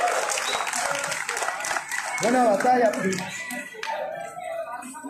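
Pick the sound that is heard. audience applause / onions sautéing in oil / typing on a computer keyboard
audience applause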